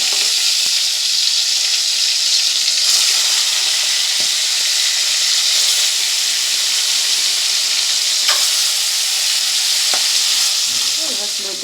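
Pangas fish frying in oil in a pan gives off a loud, steady sizzle and crackle that runs unbroken throughout, with occasional faint clinks and no voices.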